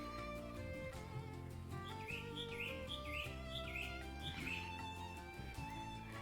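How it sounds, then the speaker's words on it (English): A woodpecker in a VRChat game world gives a quick run of about eight high, repeated chirping calls. They sit faint over a steady tonal background. "I'm pretty sure the woodpecker is antagonizing me. I've heard it like 4 more times."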